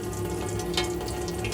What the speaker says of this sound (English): Just lift the tap up and wait for it to start coming through